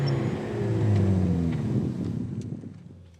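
A Renault Sport Megane Trophy hot hatch drives along with a loud, steady engine drone that swells and then eases off, accompanied by wind rush.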